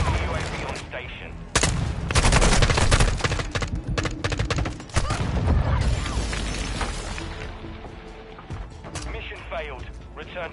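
Video game battle with loud, dense gunfire bursts and heavy blasts from an airstrike, continuous and chaotic across the whole stretch, with voices calling out under the combat noise.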